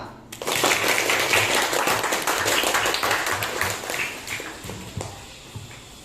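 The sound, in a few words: classroom applause, clapping hands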